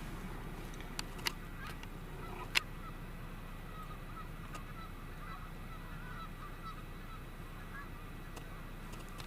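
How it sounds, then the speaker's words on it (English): Distant Canada geese honk intermittently over a steady low outdoor rumble, with a few faint clicks and no talking. "Lots of Canada geese in the fields around here."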